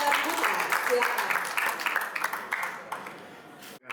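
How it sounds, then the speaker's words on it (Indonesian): An audience at a hotel gathering in Denpasar applauds with steady, dense clapping that fades out gradually while a voice speaks over it. "sekali lagi kita beri tepuk tangan yang meriah kepada Bapak Dr. Buta"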